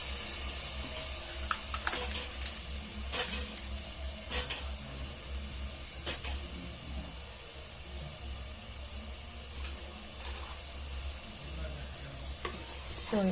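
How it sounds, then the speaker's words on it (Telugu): Maggi noodles frying in a pan with soy sauce added, giving a steady, close sizzle under scattered scrapes and clinks of a spoon stirring, with no speech. "కొంచెం సోయా సాస్ యాడ్ చేస్తున్నాను లైట్గా."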